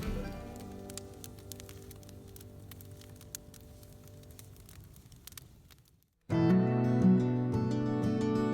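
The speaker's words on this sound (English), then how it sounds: "but it's starting to rain, so I gotta go." Steady rain falling outdoors around a garden where a potato box has just been built, a soft continuous patter with scattered drops that gives way to a louder, denser wash of sound near the end.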